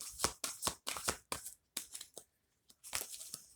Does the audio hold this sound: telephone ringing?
no